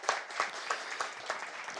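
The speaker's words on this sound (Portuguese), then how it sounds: "Uma salva de palmas aqui para os servidores da Câmara," A small crowd at a public hearing in a legislative chamber gives applause for the chamber staff, a soft, even patter of clapping with a few sharper claps standing out.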